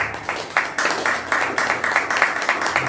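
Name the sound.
audience applause welcoming a speaker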